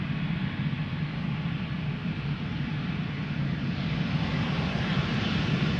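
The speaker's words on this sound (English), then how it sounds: "Mini GE90s from the E2 Embraer spooling up." An Embraer E2 jet at Schiphol spools up its engines for departure, a faint, even, far-off whine and rumble that holds steady and swells slightly toward the end, with no voices.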